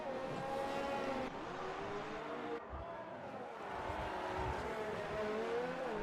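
Race car engines in a racing video game at the Azerbaijan circuit, cars running behind the safety car with sustained whining revs that rise and fall, fairly close and continuous with brief gear-shift dips.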